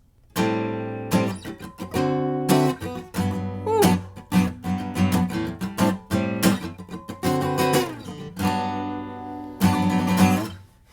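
Rich jazzy piano chords are struck one after another in a 2-5-1 progression, each ringing out with full harmony, moving smoothly at a relaxed pace.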